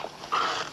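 A newborn seal pup in an oil-hit island colony lets out a thin, plaintive cry, brief and fairly close, over faint background noise.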